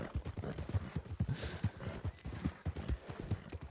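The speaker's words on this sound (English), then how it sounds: "Ah, the horses are coming." Horses' hooves clip-clop in steady, rapid rhythm in the video game Red Dead Redemption, fairly quiet and continuous with no talk over them.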